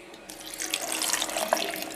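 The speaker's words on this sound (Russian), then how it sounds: "Сейчас долью немного воды." Water runs steadily from a kitchen tap for lemonade with cut lemon, a continuous close splashing stream lasting throughout with no talking.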